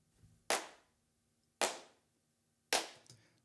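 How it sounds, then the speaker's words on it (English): Three sharp hand claps spaced about a second apart, each loud and close with a quick decaying tail, a faint room murmur in between. "Normal claps, right?"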